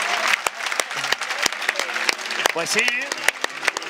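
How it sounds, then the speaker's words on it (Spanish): Spectators at a Spanish super welterweight boxing championship night applaud for Jorge Vallejo, scattered claps sounding under an excited announcer talking over the crowd. "aplauso a Vallejo, por favor."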